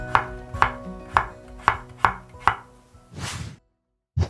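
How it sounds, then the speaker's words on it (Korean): A kitchen knife cuts peeled potatoes into slices on a cutting board, giving six evenly spaced, crisp chops close up, then a scraping sweep and one final chop after a short silence. "감자는요, 편으로 썰어 주세요."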